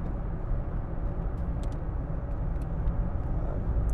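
A 2007 Land Rover Freelander 2 TD4 GS diesel with a 6-speed gearbox and all-terrain tyres pulls away, giving a steady low engine drone and road rumble heard from inside the cabin with no talk.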